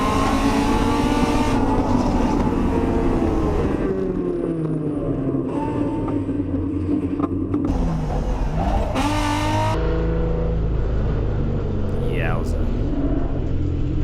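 A race car spins out on a track, engine roaring and revving continuously with shifting pitch and tire rumble, loud throughout, while people talk over it.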